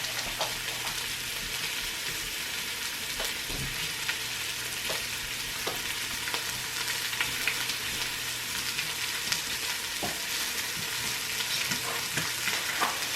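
Peppers and sausage sauté in a pan, making a steady, close sizzle with occasional clicks of stirring, continuous for the whole stretch without talk.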